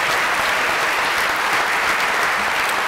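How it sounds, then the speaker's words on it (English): Steady, dense applause from a large audience at a school honors ceremony, loud and continuous throughout with no pauses and no voices rising above it. "Sullivan a big round of applause?"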